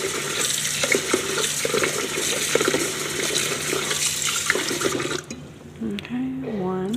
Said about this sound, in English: let's go ahead and rinse. I like to rinse maybe like 4 or 5 times